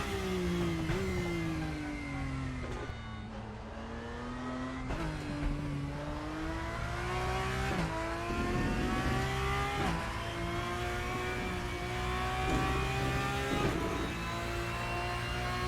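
Racing car engines in the sim racing game RaceRoom Racing Experience, a loud, steady whine that climbs and drops sharply with each gear change, revving continuously with no talking.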